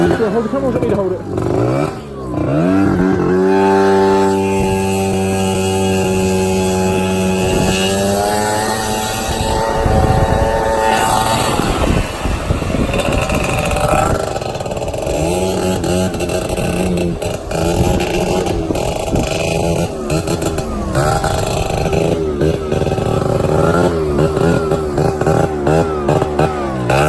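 A Piaggio NRG MC3 50cc moped ridden at close range, its small two-stroke engine droning and rising in pitch as it revs, with people talking over it throughout.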